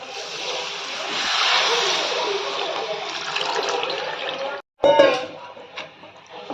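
Tamarind water pours steadily and splashes into a pot of fish curry for several seconds, then stops abruptly, followed by a short bubbling sizzle.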